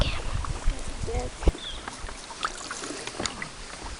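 A canoe is paddled on a lake in Quetico Provincial Park, giving soft splashes, drips and a hollow knock against the hull, with people talking nearby.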